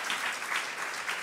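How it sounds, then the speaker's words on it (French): A brief burst of steady audience clapping after a doctoral candidate's three-minute thesis talk at a university competition in Orléans, loud, even and unbroken. "Vous pouvez applaudir et remercier pour sa présentation Monsieur Bas."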